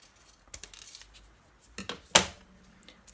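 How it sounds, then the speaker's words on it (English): Scissors snipping the ends off a ballpoint pen's ink cartridge, heard as a few quiet, dry crisp cuts, the sharpest and loudest near the end, alone with no talking. "with some scissors, I'm going to chop off each end."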